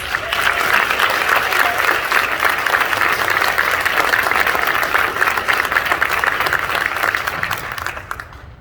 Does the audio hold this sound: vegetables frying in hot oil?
no